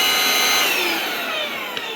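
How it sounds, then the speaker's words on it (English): A Prettycare W200 cordless vacuum cleaner runs with a steady, loud whine and airy hiss, its pitch drifting slightly lower over two seconds, with no talking. "all you have to do is pretty much put it to the floor like a normal vacuum and press the power button"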